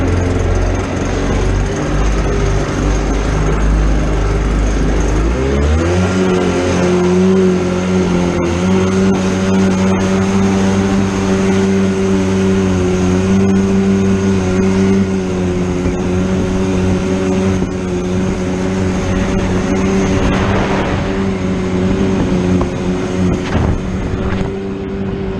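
A Yamaha WaveRunner 500 jet ski engine drones steadily and loud throughout a test ride on the water, its pitch climbing as it revs up early on, then holding a sustained throttle roar with wind buffeting the microphone.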